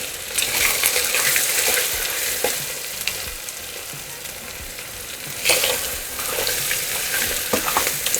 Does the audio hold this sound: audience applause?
no